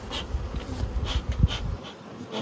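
Honey bees from a hive being moved onto a trailer buzz in a steady, close drone, with no talk over it.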